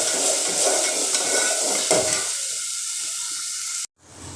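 Masala and bombil (Bombay duck) sautéing together in hot oil, a steady broadband sizzle with a few stirring clicks that eases off partway through, then cuts out abruptly near the end.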